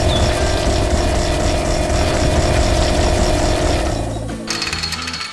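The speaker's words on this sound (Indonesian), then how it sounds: "Bor itu sedang bekerja keras menggali tanah, mengguncang bumi dengan suara bisingnya." Heavy drilling machine digging into soil on a farm, a loud continuous pounding rattle with engine rumble throughout, easing off near the end into a lighter idling engine sound.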